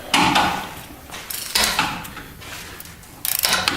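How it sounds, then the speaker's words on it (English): Torque wrench tightening transmission pan bolts on a 1996 Chevy 1500 with a Derale pan, giving close, loud ratcheting clicks in several short bursts separated by pauses. "here he's torquing all the bolts down to a max of 12 foot-pounds"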